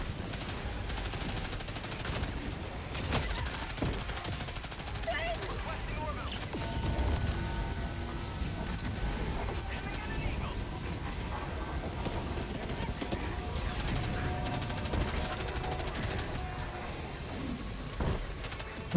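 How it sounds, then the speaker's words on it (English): Dense, rapid rattling gunfire and explosive impacts from a Gatling Incendiary Barrage stratagem in the Helldivers video game, a continuous chaotic barrage of bursts at steady loudness throughout. "This new stratagem, Gatling Incendiary Barrage."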